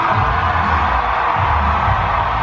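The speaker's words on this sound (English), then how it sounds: "This is a packed crowd." A packed crowd waiting for the Bill & Ted show at Halloween Horror Nights in Orlando makes a loud, steady wash of chatter and murmur, with a low rumble underneath and no single voice standing out.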